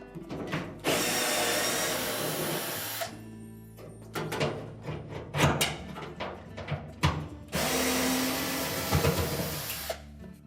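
Power drill or driver whirring in loud bursts with pauses between, loosening two bolts holding the top of a Whirlpool washer during repair, close and mechanical with clanking handling noises.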